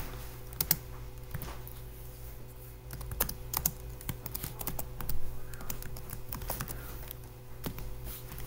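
Someone types on a computer keyboard, producing quick bursts of light, close key clicks in an irregular rhythm, with brief pauses between runs of keystrokes.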